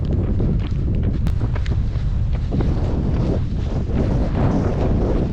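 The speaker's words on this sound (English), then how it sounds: "A little bit windier up here. It's not well windy, but nice gentle breeze." Steady wind gusting across a mountain hike path near Scales Tarn on Blencathra, a gentle breeze buffeting the microphone in a continuous low roar with no voices.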